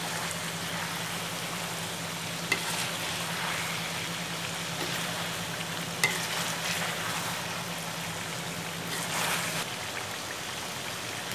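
Ginger garlic paste frying in a pan as a base for chicken karahi, giving a steady, close sizzle and crackle throughout with a few sharp stirring knocks and no talk.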